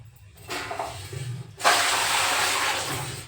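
Tap water runs while tomatoes and chillies are washed in a kitchen, starting as a soft hiss and then swelling into a steady, louder gush.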